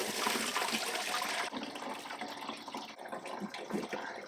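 Warm pumpkin beer mash poured through a strainer into a pot, a steady, splashy liquid rush that thins and becomes more trickling and uneven partway through, close up with no talking.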